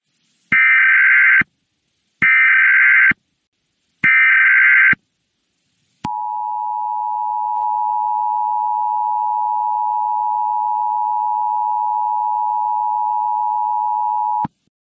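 In a Roblox game, an emergency alert signal sounds three loud, evenly spaced buzzing tones, then one long, steady, piercing tone that holds for about eight seconds before cutting off.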